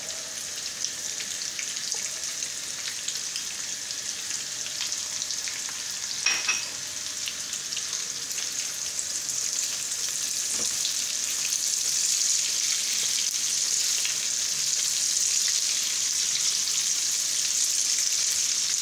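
Potatoes sizzle steadily in a pan while being turned over with a silicone spoon and salted, the constant close frying hiss broken by a couple of soft scraping stirs.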